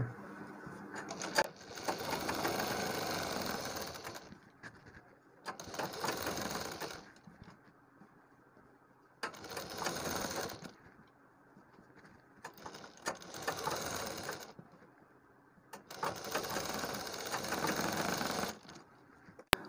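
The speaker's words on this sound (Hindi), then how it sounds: "पलटने के बाद ऊपर से सिलाई लगा के इसको जमा देना है" A sewing machine stitching a kurti neckline runs in five distinct bursts of rapid, rattling needle clatter, each lasting a couple of seconds and separated by short quiet pauses.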